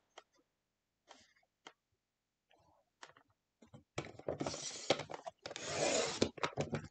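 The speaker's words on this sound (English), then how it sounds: "So I just need to cut this down to 11 3/4 inches." Paper trimmed to size for a scrapbook layout: faint scattered taps and handling at first, then two longer, louder slicing rasps of a trimmer blade cutting through the sheet, close by.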